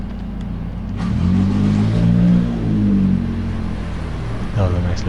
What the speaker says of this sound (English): That was a nice little Subaru that went past.